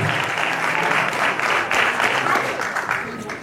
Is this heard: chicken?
no